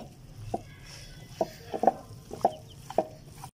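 A spoon stirs ginger garlic paste into kebab karahi in a pan, giving a few sharp metallic scrapes and taps at uneven intervals over a faint low background.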